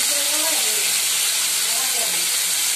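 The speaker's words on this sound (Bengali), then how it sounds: "এই কচুটা আমি ভেজে নিব, সবজিগুলো ভেজে নিব" Taro and vegetables fry in hot oil with a steady, close, full sizzle and hiss that runs unbroken throughout, with a faint voice underneath.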